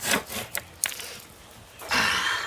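A Corona razor tooth hand saw cuts through wood past a small knot, giving short rasping strokes, a few quick bursts then a longer steady stroke, close and fairly loud with no talking.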